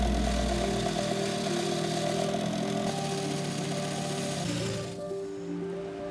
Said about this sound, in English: we're gonna fragment it into those micro fragments, working with our bandsaw